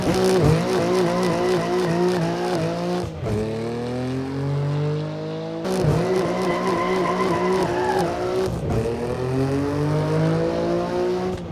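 A BMW M2 sports car with an inline-six engine runs hard down an airfield runway, its loud engine climbing through the revs in repeated rising sweeps, with brief drops at the gear changes, and a tire squeal.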